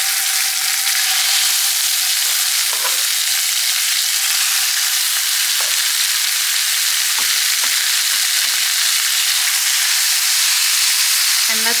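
Pork pieces sear in a pan over medium heat on a stovetop, giving a loud, steady sizzle and hiss that runs throughout, with a few soft clicks and bumps from the pan along the way.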